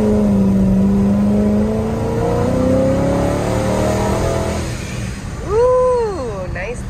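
A 2006 Dodge Charger SRT8 engine rises in pitch through a rev, then drops sharply on a downshift and blips back up in quick swoops. The sound is loud and close, with a person talking over it.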